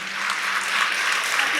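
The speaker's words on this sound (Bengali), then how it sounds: "হাততালি ওনার জন্য।" Steady applause from an audience for a woman honoured on stage at a mothers' event, dense and continuous throughout at an even level.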